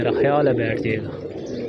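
Morning pigeons cooing nearby in a rooftop loft, soft repeated coos under someone talking.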